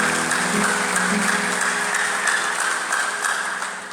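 Church congregation clapping together, a dense, sustained wash of applause filling the space at close range and tapering slightly toward the end.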